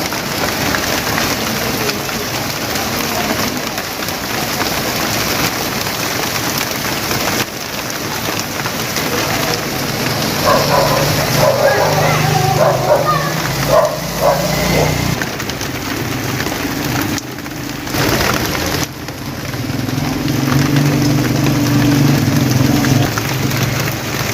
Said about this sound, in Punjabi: ਬਾਰਿਸ਼ ਹੋ ਗਈ ਤੇਜ਼ ਹੁਣ ਪਾਣੀ ਚੱਲਣਾ ਸ਼ੁਰੂ ਹੋ ਗਿਆ ਰੋਡਾਂ 'ਤੇ